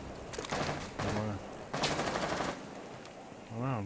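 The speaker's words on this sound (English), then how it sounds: "I'm trying to stop him shooting me, Bill." Gunfire in the video game Rainbow Six Siege, loud bursts of rapid automatic shots in several volleys, with a voice cutting in between bursts.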